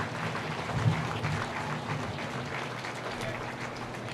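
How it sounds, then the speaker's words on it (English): Audience applause at a county fair junior swine show, steady clapping from a crowd throughout, fairly loud and continuous with a slight swell near the start. "So let's give a round of applause to the ring help here today."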